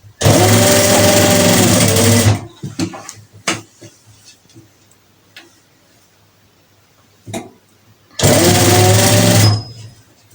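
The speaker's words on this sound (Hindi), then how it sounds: "इसको किनारे किनारे पे सिलाई लगा कर अटैच कर लूंगी" Sewing machine running in two loud close bursts of rapid stitching along the edge of a kameez, separated by quiet handling clicks and fabric shuffling.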